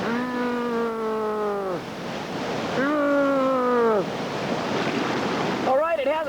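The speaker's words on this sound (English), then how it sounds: "our rafts are entering our next major rapid" Steady roar of whitewater rapids on the New River Gorge as rafts enter a major rapid, with sustained tonal calls or whoops rising over it in three separate bursts.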